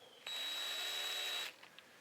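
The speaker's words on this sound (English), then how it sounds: "So maybe we can get some drilling going on." A cordless drill whirs steadily for about a second, starting and stopping abruptly, close by with no talking.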